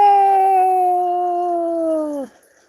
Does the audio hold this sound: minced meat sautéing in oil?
no